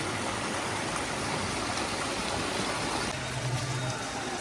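A street drain in Vrindavan after heavy rain carries runoff toward the Yamuna, a steady dense rushing of flowing water, loud and unbroken throughout.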